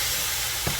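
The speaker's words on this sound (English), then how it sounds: "we are going to cook this until the beef is cooked through" Minced beef with garlic sizzling in a pot on the stove, a steady close hiss and frying crackle with a brief stirring thump near the end.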